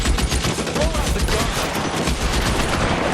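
Rapid, dense gunfire in the video game L.A. Noire during a shootout ending in a headshot, continuous loud crackling shots close up with no pauses.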